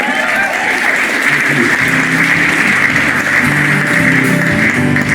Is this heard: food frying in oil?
no